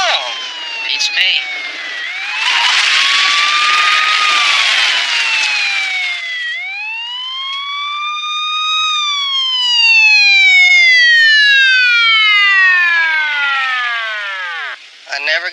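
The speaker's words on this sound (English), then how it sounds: "I never got stopped by an ambulance before." Ambulance siren, loud and close, sweeping through rising and falling wails, shifting from a fast warble to long slow glides, then cutting off abruptly near the end.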